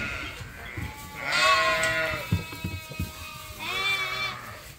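Sheep and lambs at a farm pen with lamb feeders and a creep area bleat in several overlapping, wavering calls, some near and loud, some farther off, with shuffling and knocks between them and no talking.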